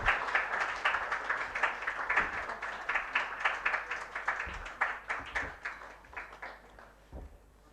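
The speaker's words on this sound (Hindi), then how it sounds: "तब तक तालियां बजाते रहिए प्लीज़" Fairly faint, continuous applause from the audience at a book release event, many hands clapping in a dense, slightly rhythmic patter that thins out toward the end.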